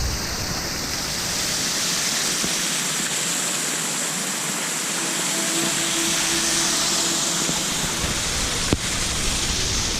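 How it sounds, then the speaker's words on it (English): Waterfall at the Hilton Hawaiian Village resort in Honolulu, a loud, continuous hiss of falling water heard up close with no talk over it. "Got a waterfall right here."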